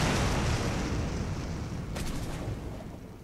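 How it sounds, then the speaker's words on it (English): A loud explosion in the survival video game Stranded Deep gives a dense, roaring blast that fills the scene and slowly fades over a few seconds, with no voice over it. "Okay, explosion."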